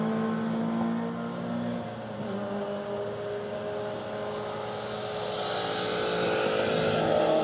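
A rally car drives through a circuit rally stage, its engine droning steadily at mid distance, dipping slightly before rising again as it draws nearer and louder toward the end.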